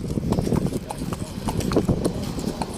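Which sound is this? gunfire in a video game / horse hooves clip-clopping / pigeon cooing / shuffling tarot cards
horse hooves clip-clopping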